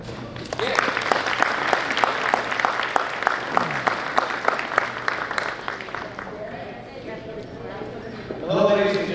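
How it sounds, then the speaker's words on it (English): Parents at an eighth grade parent night give a round of applause, a brisk run of clapping that thins out and fades, followed by a brief burst of voices at the end. "round of applause"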